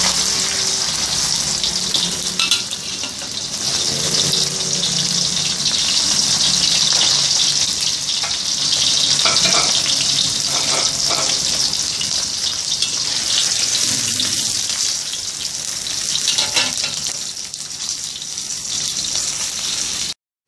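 Sun-dried tilapia fries in hot oil, a steady close sizzle and crackle running unbroken with no voices over it.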